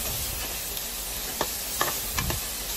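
Potatoes frying in beef adobo while being stirred, with a few sharp spoon scrapes and clinks over a steady background sizzle.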